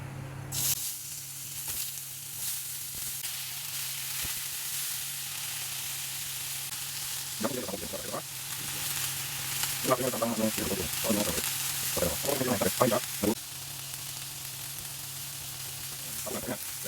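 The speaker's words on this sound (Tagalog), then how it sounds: "Ilagay natin yung chicken. Prituin muna natin yung chicken natin." Chicken pieces fry in a pan for chicken caldereta, giving a steady, close sizzle and hiss throughout, with a cluster of louder stirring and clattering bursts partway through.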